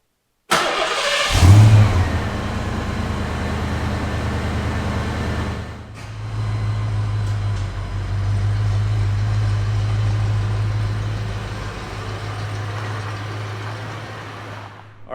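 A Ford Foxbody with a 5.0 V8 cranks and fires up with a loud burst, then settles into a steady, rumbling idle that continues to the end, close and without talk.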